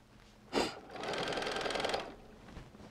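After a sharp click, a sewing machine runs a short, even seam on a lined Christmas stocking cut with an AccuQuilt Santa stocking die, humming steadily for about a second and then stopping.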